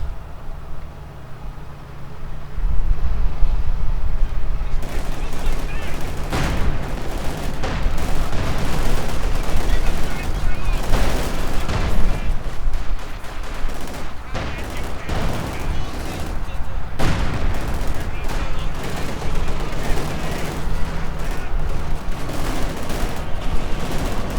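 Dense battle gunfire from the Company of Heroes 2 video game: sustained volleys of rifle and machine-gun shots with occasional heavier thuds, loud and continuous for the whole stretch, with faint commentary voice mixed in.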